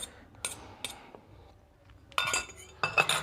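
Egg mixture for a steamed egg and paneer curry goes into an oiled tiffin carrier, giving a few sharp clinks of the container and utensil in scattered bursts, louder toward the end, with no talking.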